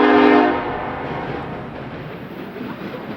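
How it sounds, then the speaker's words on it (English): A daily high-priority intermodal freight train rolls past near Chicago, its horn sounding loudly for the first half second before fading into a steady roar of passing cars and wheels on rail, no voices. "The 29F is a daily high-priority intermodal train between the railroad's Calumet Yard in South Chicago and Jacksonville,"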